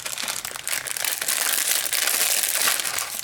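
Plastic inner bag of NongShim Pho Beef instant noodles crinkles and crumples continuously up close, a loud, busy rustle with no voices.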